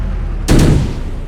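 A tank turret in the Arms Trade Tank Tycoon game fires like a machine gun, giving a single loud, close burst of gunfire that fades quickly against low background noise.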